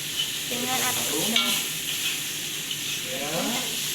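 Shallots and garlic sizzle steadily in a pan over a small flame, a continuous close frying hiss with occasional stirring scrapes and a few faint voice-like tones.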